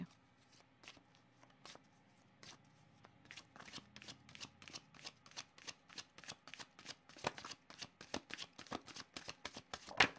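Oracle cards are shuffled by hand in a quick run of crisp riffling snaps, steady at first and then speeding into denser, louder bursts, with a low background murmur underneath.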